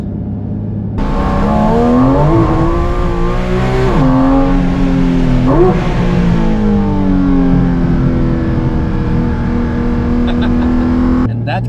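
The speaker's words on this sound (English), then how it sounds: "we got the noisiest car we could find" A loud, noisy car engine revs and holds a steady drone, with pitch climbing and dipping in several surges before cutting off near the end.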